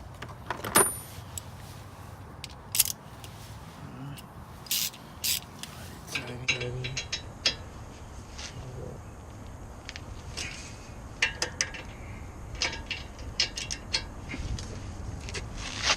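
A ratchet with a 19mm socket tightens a brake bolt on a 2007-2013 Acura MDX SH-AWD 3.7L V6, giving quiet irregular clicks and metallic taps at close range with no talking.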